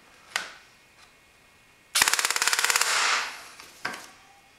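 An ARES Amoeba airsoft rifle, fitted with an upgraded spring guide and running about 18 rounds per second, rips off one loud, fast burst of rapid clicking shots. Single sharp snaps come before and after it.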